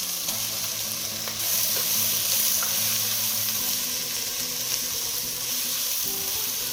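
Onions sizzling steadily in a hot pan while cooking a Réunion-style pork massalé curry, a continuous close frying hiss with faint clinks, no voices.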